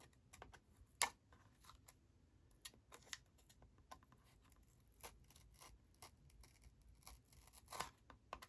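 Scissors snip through a book cover in small, irregular cuts, with quiet close crunches and clicks, one sharper snap near the start, and no talking.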